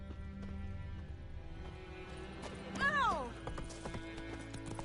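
Hoofbeats of Roach, the horse in a PS4 video game, clip-clop steadily at moderate distance, with a brief whinny-like swell in the middle over continuous game ambience and music.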